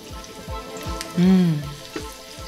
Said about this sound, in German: Chilischote, Knoblauch und Petersilie rein und lasse etwa 2-3 Minuten leicht anbraten.